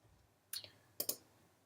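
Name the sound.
mouse click on a software button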